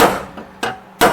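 Several sharp metallic hammer blows on a Datsun 280ZX sheet metal floor pan, irregularly spaced, each ringing briefly before the next strike. Close and loud, with no talking.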